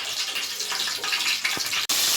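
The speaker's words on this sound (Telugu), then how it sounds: "నీళ్ళు పడుతుంది" Water pouring steadily into a cooking pot in a home kitchen, a close, continuous splashing gush that ends with a brief clunk.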